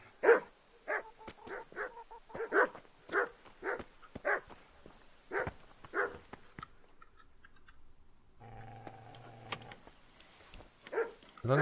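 Dogs bark repeatedly in the medieval role-playing game Kingdom Come: Deliverance, a steady run of sharp, fairly close woofs that breaks into a short lull before resuming.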